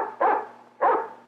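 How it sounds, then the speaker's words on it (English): Two distinct dog barks, each short and fairly loud, spaced about half a second apart, in an old Western setting where the dog is to hunt a groundhog. "Ned, how's chance of me using your dog to hunt up that groundhog"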